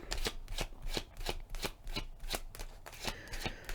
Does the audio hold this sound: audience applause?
no